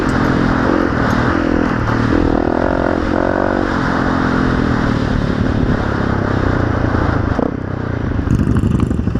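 Honda CRF dirt bike ridden through mud, a loud continuous engine drone with shifting revs, splattering clatter and scraping close by throughout, no talk.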